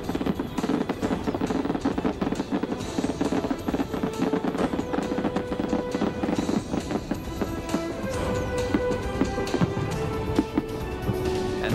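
Fireworks burst and crackle continuously at the Frontier Tower, a dense run of loud pops and bangs overlapping one another, with some faint tonal whistles mixed in.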